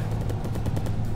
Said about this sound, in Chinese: 机枪兵，你倒是打呀，机枪兵。